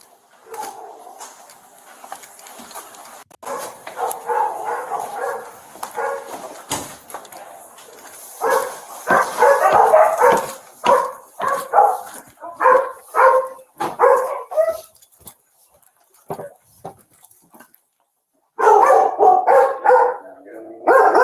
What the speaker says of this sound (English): I feel sorry for the puppies. The Labradoodles are like, what's going on?